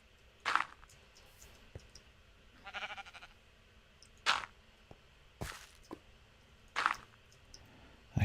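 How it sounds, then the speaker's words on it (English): Minecraft sheep let out a few short, bright bleats spaced several seconds apart, with soft clicks and light in-game shuffling in between. The scene is quiet and no one speaks. "Come on, sheep."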